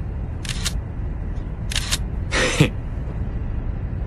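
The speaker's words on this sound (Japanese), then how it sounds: "シャッターの音が。 ずっとニコンだぜ。" Three crisp clicks of a Nikon camera shutter fire close up, the last slightly longer and louder, with quiet room tone between them.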